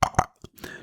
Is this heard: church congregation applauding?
no